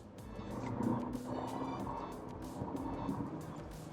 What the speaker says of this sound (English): I just want you to listen, because this is as loud as the engine will be.